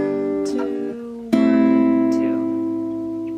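Acoustic guitar strumming three minor 7th chords in a short transition, two ringing strums with a sharp re-strum partway through, close and clear with no voice.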